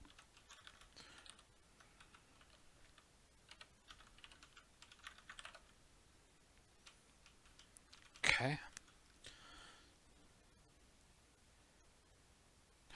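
Someone types on a computer keyboard while programming a Rust emulator, a steady stream of soft close key clicks with one loud clatter partway through, no one speaking.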